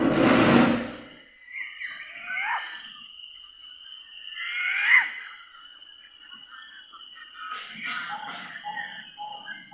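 An electronic bird call plays from a push-button display at Khijadiya bird sanctuary in Jamnagar: a low thump, then several bright, warbling chirps over a steady faint tone, fairly close and moderately loud.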